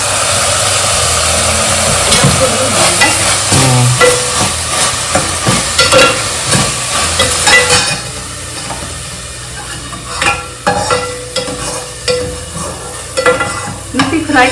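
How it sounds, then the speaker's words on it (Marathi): Fenugreek leaves fry with garlic in a pan, giving a steady loud sizzle and crackle with repeated stirring scrapes and clatter throughout, easing slightly in the second half. "नुसती फ्राय करून घेतली ना मेथी."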